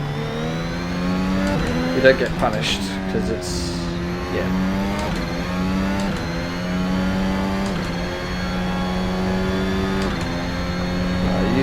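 A VRC Formula Alpha 2022 race car's engine screams steadily in Assetto Corsa, revving up and down through gear changes with a brief tire squeal, while someone talks over it throughout.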